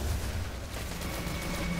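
Gunfire from shooting enemies in the video game Destiny sounds as a dense, rapid burst of shots, loud and close, with no talk over it.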